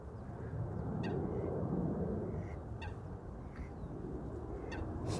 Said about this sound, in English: Donald is also seemingly responding to the sound of Chris Coot.